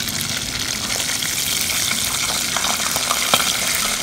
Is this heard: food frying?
yes